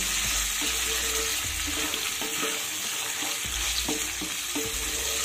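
Soaked chickpeas and potatoes frying in a pan, a continuous sizzle broken by regular scraping strokes of a spatula stirring the mixture, close and with no voices.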